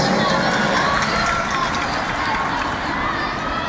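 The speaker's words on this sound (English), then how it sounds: "Why don't we give a round of applause" Crowd at the Mutya ng Sultan Kudarat 2019 pageant applauding and cheering for candidates, a loud, steady roar of clapping and shouts throughout.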